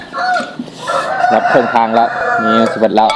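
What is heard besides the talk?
rooster crowing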